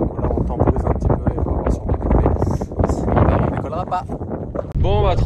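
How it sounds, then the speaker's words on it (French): Strong gusty wind buffets the microphone at a paragliding take-off in the Atlas mountains, a loud rushing roar that runs under close talking throughout. "le vent est un peu trop fort, on est dans un venturi"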